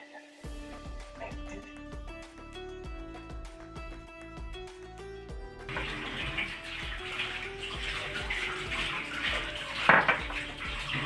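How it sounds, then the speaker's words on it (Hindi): A kitchen tap turns on partway through, and steady running water splashes into a sink while samosa dough is being prepared, with faint clinks of utensils beforehand. "मगर पानी चल गया था"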